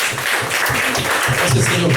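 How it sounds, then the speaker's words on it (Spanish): A church congregation claps for the Lord at a Spanish-language Christian service, the applause loud and steady throughout while a voice speaks over it. "Si quiere le da un aplauso al Señor y lo presentamos"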